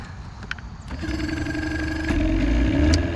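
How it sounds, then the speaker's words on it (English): A cold two-stroke boat engine is started, with a short click and pop before it catches and settles into a steady, close running drone that grows slightly louder toward the end. "Fired right up. A little bit of backfire. She's cold-natured. It's a two-stroke."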